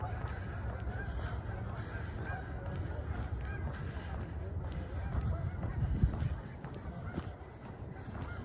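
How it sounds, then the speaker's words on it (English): Geese honk repeatedly at a lake at sunrise on a sub-freezing November morning in Regina, a busy overlapping chorus of calls at moderate distance, growing slightly more agitated mid-clip. "I think the geese gearing up to take off. All that honking, probably heading out to the fields pretty quick here."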